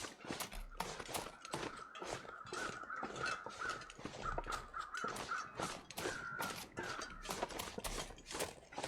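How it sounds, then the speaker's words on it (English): Crows caw repeatedly in the video game The Long Dark, several harsh calls at moderate distance over a steady wind-like background hiss. "I hear crows over here"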